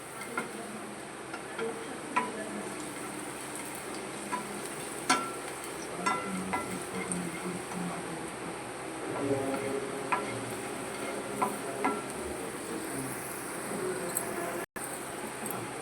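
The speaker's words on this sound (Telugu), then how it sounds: "ఇలా బ్రౌన్ కలర్ వచ్చే వరకు ఫ్రై చేయాలండి" Chutney ingredients frying in a pan until brown: a faint, steady sizzle with scattered light ticks and stirring clicks, close by, with no talk.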